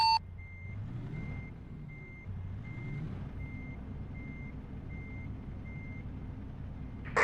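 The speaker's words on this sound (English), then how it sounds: "Is that your reverse gear beep?" A vehicle reversing in the game Xenonauts 2 gives a steady series of evenly spaced electronic beeps, about a dozen, over a low rumbling engine drone, with no one talking.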